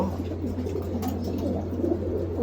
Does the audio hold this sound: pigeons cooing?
yes